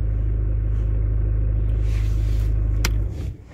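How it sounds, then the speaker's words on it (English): A Mercedes-Benz A-Class (W169) engine idling with a steady low rumble, a brief click, then the engine cuts off and the rumble dies away. "Let me shut off the engine so you can hear me better."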